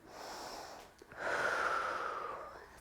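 Forceful breaths during a yoga workout, a softer airy breath followed by a longer, stronger exhale pushed out through the mouth, close and breathy.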